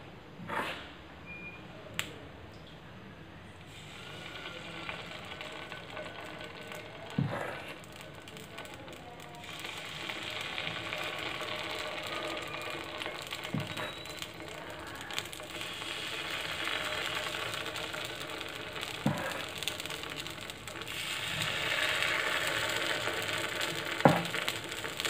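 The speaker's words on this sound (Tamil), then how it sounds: "இப்போ நாம மாவை வந்து இதல ஊத்திடலாம்." Carrot kuzhi paniyaram batter sizzles softly in an oiled paniyaram pan, a faint, steady crackle with a few sharp clicks and pops spread through it.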